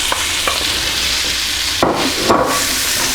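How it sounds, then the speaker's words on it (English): Onions added to hot olive oil and butter in a pan for a patty melt, giving a steady close sizzle with a few sharp knocks of utensils against the pan, no talking. "Got that up to temperature, and we just add the onions."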